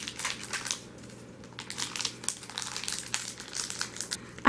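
A dog treat bag is crinkled and tugged at while someone tries to open it, giving irregular bursts of plastic crackling and crushing noise at close range, on and off throughout with no voices.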